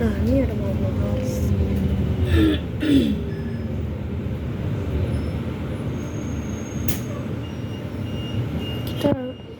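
A Skywell Transjakarta electric bus on corridor 6H in Jakarta rides along with a steady low rumble and road hiss heard from inside, with brief voices and small clunks along the way.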